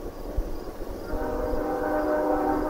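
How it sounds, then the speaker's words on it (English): A high-speed train passes near a marina, a rising rail rumble with a sustained horn tone that grows louder and holds, heard from a short distance outdoors. "It's a high-speed train going that way. Crosses right over in front of the marina."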